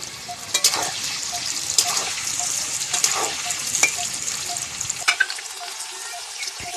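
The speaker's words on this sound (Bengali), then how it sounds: "এবারে আমি ভেজে নেব কাঁচকলা।" Green plantain pieces seasoned with a little salt and turmeric fry in oil with a bright crackling sizzle and scraping stirs, then the sizzle drops away near the end.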